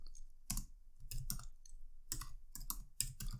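Bursts of quick clicking keystrokes on a computer keyboard, close and fairly quiet, coming in short irregular clusters with brief pauses between them.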